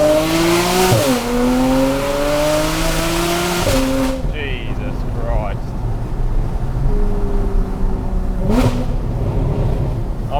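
A heavily modified Porsche Cayman on a drive, its very loud engine rising through revs with sharp shifts, then dropping back before climbing again; a brief squeal and road noise sit under it, with no voices.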